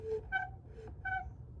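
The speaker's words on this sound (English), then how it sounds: "My desk is squeaking, you guys." A few high, tonal squeaks in short bursts from a desk creaking under shifting weight, close and fairly quiet over a low background hum.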